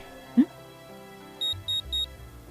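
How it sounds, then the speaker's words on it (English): A VCR in the Witch On The Holy Night game emits three short, evenly spaced electronic beeps after a single click, clear and close over quiet background music. "The VCR beeped in protest."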